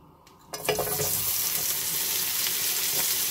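Shallots hit a hot pan and start frying with a sudden loud sizzle after a quiet half-second, then a steady, dense crackle continues close by with no voices.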